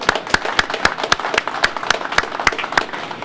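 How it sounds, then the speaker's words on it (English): Applause at the Navy Week kickoff ceremony in Tampa, heard as a steady, evenly paced series of crisp hand claps, fairly close and loud, without speech. "Yes, a round of applause."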